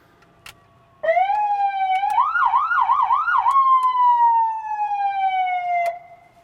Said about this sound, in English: Your sirens are controlled here.